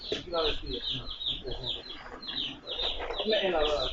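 Chicks by the thousand peep in a poultry house, a dense, continuous chorus of shrill chirps from many birds close by, with a voice speaking faintly beneath.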